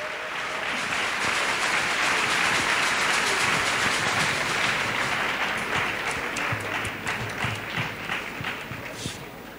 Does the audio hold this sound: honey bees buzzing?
no